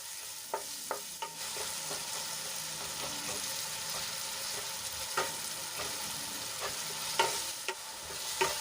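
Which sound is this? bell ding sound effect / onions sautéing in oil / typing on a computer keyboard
onions sautéing in oil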